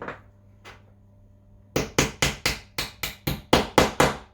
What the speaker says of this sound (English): hammer it in a little bit just to get it started